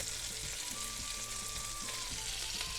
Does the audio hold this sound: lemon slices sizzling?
yes